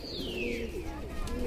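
A sick domestic pigeon coos softly nearby, giving a few low, throaty calls over faint background noise.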